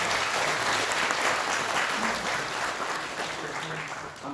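Sustained applause from an audience at a New Year ceremony at Hwaeomsa Buddhist temple on Jirisan, steady and dense for several seconds, then slowly thinning toward the end.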